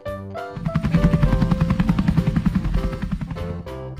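A cartoon helicopter in a preschool learning game drones steadily, its rotor chopping in a fast rhythmic pulse with a low engine hum, fading after a few seconds.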